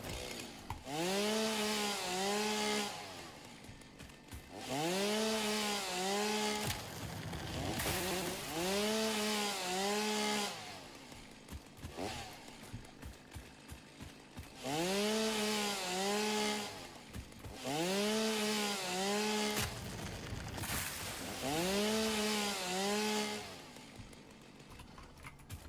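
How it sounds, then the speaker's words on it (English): A chainsaw in the video game Satisfactory cuts down trees in repeated bursts, its engine revving up and dropping back in a rising-and-falling whine several times over, loud and alone with no speech. "Chainsaw."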